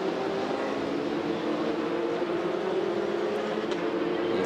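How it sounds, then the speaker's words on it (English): A Formula 4 race car's engine, heard at a race in the F4 SEA series, makes a loud, steady droning roar that holds through most of the stretch with only slight shifts in pitch. "he'll be going up through the gears, 3rd gear, 4th gear, up to 5th before braking at 45 meters before"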